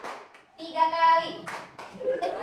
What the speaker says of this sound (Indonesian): Oke, tepuk 1 kali, tepuk 2 kali, 3 kali.